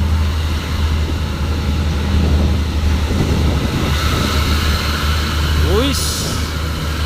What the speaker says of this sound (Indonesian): Hino nih, Hino trailer.